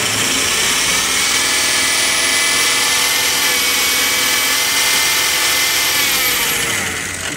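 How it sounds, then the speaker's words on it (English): A diesel engine is revved up, a loud sustained roar with a high whining tone that holds steady for several seconds and eases slightly at the end, no talking. "Just for the video, I'm going to rev it up."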